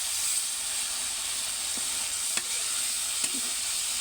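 Dried red chilies fry in a pan of oil, a steady close hiss-like sizzle with a couple of brief clicks, short and even throughout.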